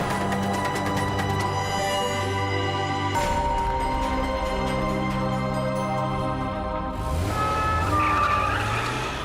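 A police car races along a road toward a pub in the village of Pelsall near Birmingham, its engine roaring loud and sustained while its tyres squeal and skid, with the pitch shifting partway through.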